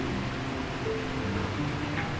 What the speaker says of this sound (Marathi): रात्रीचे 12 वाजलेत आणि पाऊस आलेला आहे.